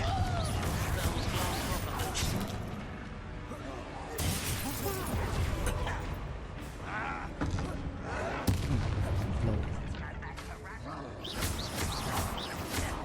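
A Confringo fire spell blast erupts in the video game Hogwarts Legacy amid dense, loud combat noise, with crackling bursts and impacts layered over continuous game music and effects, and a voice calling out spells.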